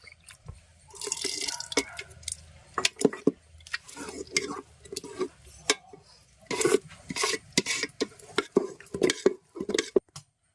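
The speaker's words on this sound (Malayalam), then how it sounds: "ഒരു ശകലം വെള്ളം കൂടെ നമുക്ക് ചേർക്കണം" Water is added a little at a time to traditional Kerala kinnathappam batter. Irregular close drips and splashes mix with light clinks of a utensil against a bowl, set against an otherwise quiet room.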